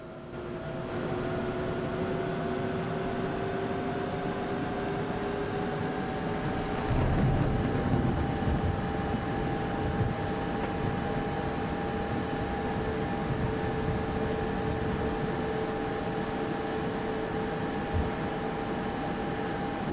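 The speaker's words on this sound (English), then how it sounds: "Let's go ahead and hear that APU start." An Airbus A220 auxiliary power unit spools up in Microsoft Flight Simulator 2024, a steady broadband rush with rising turbine whine tones that climb slowly in pitch and hold, loud and continuous with no talking.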